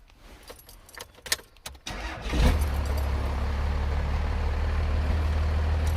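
Keys jingle and rattle briefly, then a Cummins 5.9 diesel engine in a Jeep LJ cranks and catches, settling into a loud, steady low diesel idle that continues to the end.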